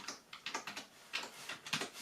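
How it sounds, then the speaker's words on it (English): A password is typed on the keyboard of a 2012 Mac Mini: a quick run of light, crisp key clicks in an uneven rhythm, close and fairly quiet. "This will be a test of the keyboard."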